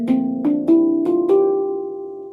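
A handpan plays a rising scale with a swung, uneven rhythm, some notes landing close together and others spaced apart, each ringing tone blending into a sustained shimmer that slowly decays.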